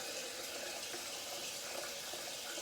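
Tap water runs steadily into a sink for rinsing after a shave, a continuous close splashing hiss with no talk over it.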